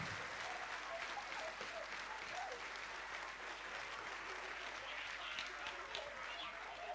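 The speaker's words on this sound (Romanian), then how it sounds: "Aplauze tuturor celor care v-ați implicat în acest" Steady, dense applause from a large audience at a dance school gala, sustained and even throughout with a murmur of crowd voices mixed in.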